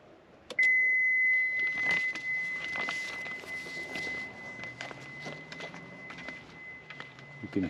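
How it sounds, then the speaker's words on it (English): A Honda Civic car alarm sounds a steady high electronic tone continuously for several seconds during a battery check, accompanied by shuffling footsteps and light handling noises nearby. "You can hear the alarm go off"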